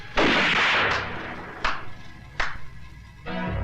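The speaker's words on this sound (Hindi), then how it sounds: "हवा में गोलियां चलाने से कुछ नहीं होगा प्रताप सिंह।" Three loud gunshots fired into the air ring out one after another, each a sharp crack followed by a rolling echo.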